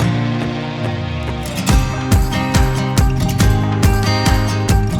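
A heavy 9,000-pound machine works on a newly built bridge, its engine droning steadily with rhythmic metallic clanks and knocks repeating throughout, close and loud.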